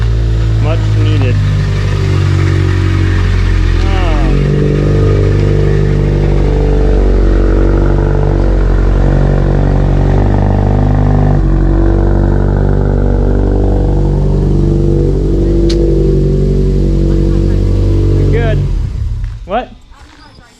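A vehicle engine at a bait shop rumbles and revs as it drives in. The loud, steady idle swells and holds close by before cutting off near the end, with voices talking over it.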